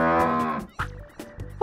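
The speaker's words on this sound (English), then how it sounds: "Cow." A cow gives a single long, low moo up close, fading after under a second, followed by a few faint thumps and clicks.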